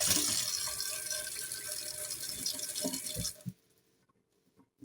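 Running water from a tap splashes steadily over a bar of homemade mango soap as it is rinsed, then cuts off abruptly, leaving near silence with a few faint drips.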